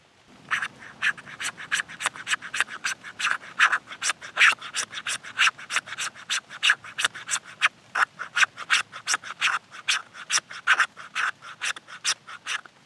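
Quick, repeated scraping strokes of a blade carving shavings from fatwood, a rapid close rhythm of short rasping cuts with no speech.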